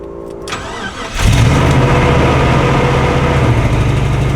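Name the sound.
old RV engine starting and idling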